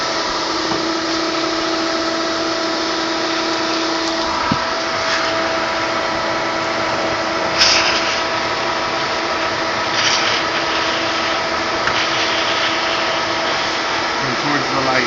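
A vacuum cleaner draws bees out of a hive built inside a shed wall, giving a steady, close, continuous whine and hiss that runs the whole time, with faint scraping and rubbing over it.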